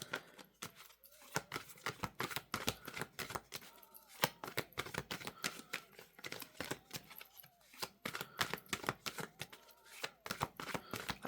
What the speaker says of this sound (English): Seven more shuffles, unless one pops out.